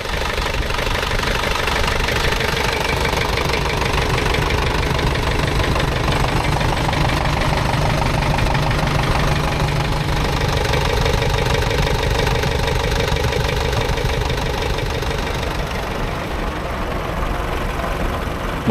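An old red McCormick tractor from the 1960s idles at a ploughing event with a steady, loud, rough mechanical chug and no let-up, with little else over it.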